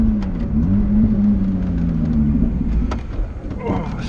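Alfa Romeo 4C or Lotus Exige S V6 sports car engine accelerating, its steady drone rising in pitch and holding loud and close throughout, with someone talking over it.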